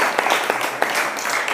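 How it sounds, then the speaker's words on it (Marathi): Audience applause at a children's spiritual sightseeing trip gathering, a dense steady burst of many hands clapping at close range, continuous throughout with no voices. "पण तुमच्यासाठी एकदा टाळ्या वाजवा"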